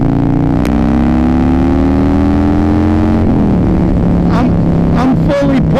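A stage 3 Harley-Davidson M8 124 V-twin revs hard on a dyno in third gear, the loud engine tone climbing steadily and then dropping as the throttle comes off, with brief higher shifts near the end.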